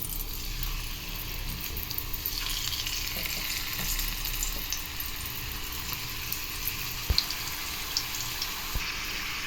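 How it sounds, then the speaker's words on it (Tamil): Slices of yellow pumpkin deep-fry in hot oil in a kadai, giving a dense, continuous bubbling sizzle throughout, with a couple of faint clinks near the end. "ஒரு கடாய் வச்சு எண்ணெய் ஹீட் பண்ணி வச்சுருக்கிறேன். இதை போட்டு நம்ம பொரித்து எடுத்துடலாம்."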